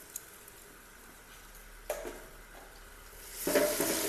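Ginger and garlic paste fry in a cooking pot for a country chicken curry. Soft sizzling runs under a few scattered stirring scrapes, and the sound swells louder near the end.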